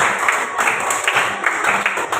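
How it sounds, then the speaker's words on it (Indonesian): Clapping from a group of parents at a learning-styles session, a continuous moderately loud patter of many hands with a few sharper accents, no talking over it. "Oke, tepuk tangan buat kita semuanya."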